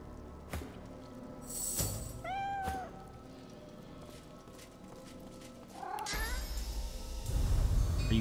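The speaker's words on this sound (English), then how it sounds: "You stupid skeletal cat!" A skeletal cat in the video game Divinity: Original Sin 2 lets out drawn-out, wavering meows with sharper yowls between them, clear and close, against game ambience and scattered clicks, with a brief heavier burst near the end.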